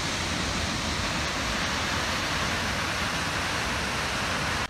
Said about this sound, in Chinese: 睇瀑布嘅背面同埋條急流啊，梗係有急流先至有瀑布噶嘛